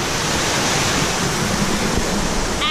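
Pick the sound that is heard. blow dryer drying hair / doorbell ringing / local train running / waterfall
waterfall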